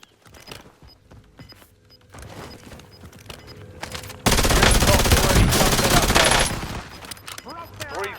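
Gunfire in the Call of Duty Warzone Resurgence video game: scattered shots early, then a dense burst of rapid automatic fire in the middle, with game voice lines and effects around it.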